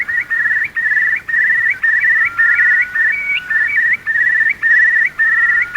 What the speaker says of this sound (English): Now the moors ring with the songs of the returning birds as they display above their breeding territories.